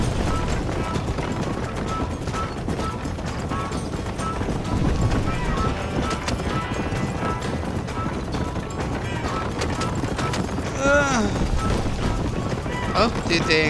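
Horse-drawn carriage race in Red Dead Redemption, with dense galloping hooves, rattling wheels and occasional crashing knocks, loud and continuous, a whinny rising near the end, and a voice talking over it.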